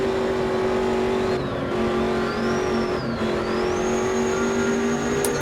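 A race car engine in the Automobilista 2 racing game drones loudly and steadily, rising and dipping through revs and gear changes with no talk over it.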